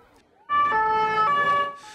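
An ambulance siren wails loudly and close by, its steady rising and falling electronic tone sounding for over a second after a quiet start, with emergency services arriving at the scene of a mass-casualty attack in Nice, France.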